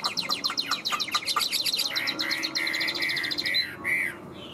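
A tamed hwamei songbird with a yellow beak and yellow feet sings a rapid, loud series of whistled, sweeping phrases up close, the trills repeating in quick bursts with short pauses between them.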